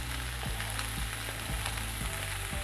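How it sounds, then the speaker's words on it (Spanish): Bacon and chorizo frying with onion and garlic for a bean soup, a dense, loud crackling sizzle close up, with a few soft rhythmic stirring taps, no voices. "Añadimos el tocino y el chorizo."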